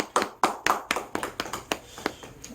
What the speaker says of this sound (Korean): 우리 하나님께 박수로 영광 돌려드립시다.